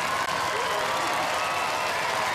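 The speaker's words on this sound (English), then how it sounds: "Cue the applause" A studio audience claps and cheers loudly for Razor, crowned new UK champions at the Robot Wars fifth-series final. The applause is dense, steady and sustained, with voices mixed into the crowd noise.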